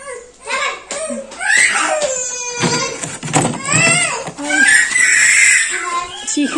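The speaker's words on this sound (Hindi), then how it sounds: "चीखे सुन ले चीखे।" A small child screams and cries at home in shrill, rising wails broken by sobbing gasps, loud and close, with bits of giggling mixed in.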